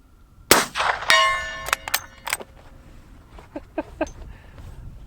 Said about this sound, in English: I don't know what's louder, the rifle going off or actually hitting the steel